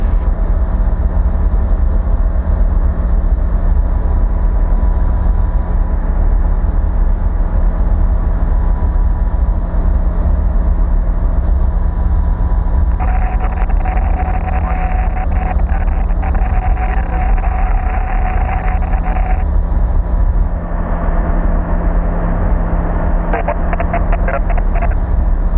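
Bristell light aircraft in flight with the engine at 5,200 RPM, a constant loud droning hum with a steady low tone and airflow noise, and short bursts of buzzing radio static partway through.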